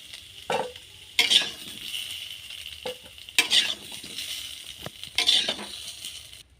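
Potatoes frying crisp in a pan for an egg curry, a soft continuous sizzle broken by three loud bursts of stirring and scraping against the pan, close up with no voices.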